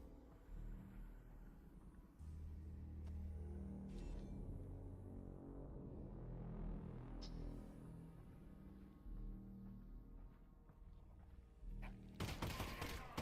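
Dense video-game gunfire from Half-Life: Alyx as headcrabs are shot, a loud sustained barrage of overlapping shots with low rumbling thuds and a sharp burst of blasts near the end.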